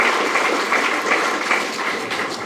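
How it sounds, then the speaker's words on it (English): An audience at a club gathering applauds, a dense, even wash of clapping that holds steady for a couple of seconds without pause. "Thank you very much for your generous applause."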